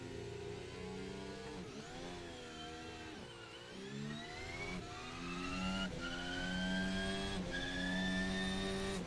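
Formula 1 car from a 2024 mod in Assetto Corsa revving and launching from a standing start, engine note climbing through repeated gear shifts, loud and continuous with no talk.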